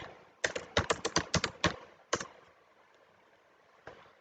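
Quick burst of typing on a computer keyboard, about ten crisp close key clicks followed by a pause, one more click, then near silence with a single faint tap.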